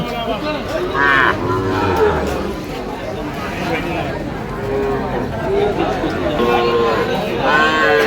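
Sahiwal cattle at a livestock market in Cumilla and Kishoreganj, with several loud, drawn-out moos rising and falling close by under continuous crowd chatter and someone speaking.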